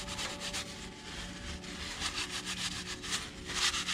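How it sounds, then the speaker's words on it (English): A cloth rubs along the oily bottom of the drain bolt on a 2010 Mazda 6 during an oil change, making a close, quiet, continuous scrubbing and wiping sound. "now if I wipe the bottom off where the oil is"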